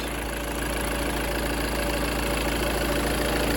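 A 2-litre Peugeot HDi diesel engine in a Citroen Dispatch van idles steadily nearby, a continuous low rumble with a faint ticking knock that stays even throughout.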